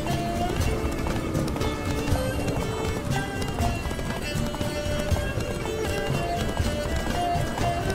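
Roach the horse gallops in The Witcher 3: Blood and Wine, a steady fast clip-clop of hooves running under a dense, loud bed of game music and ambience throughout.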